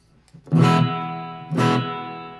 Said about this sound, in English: It's like a room reverb.